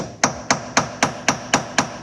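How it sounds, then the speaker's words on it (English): Hammer strikes a punch against a shock absorber's threaded lock ring eight times in a steady rhythm of sharp, bright metallic taps with short ringing decays, close and fairly loud. "Tighten it up with your hammer and your punch."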